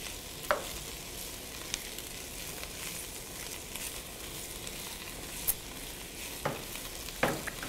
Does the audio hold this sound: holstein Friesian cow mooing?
no